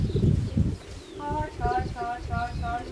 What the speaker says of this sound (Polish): Jest gołąb? Jest gołąb.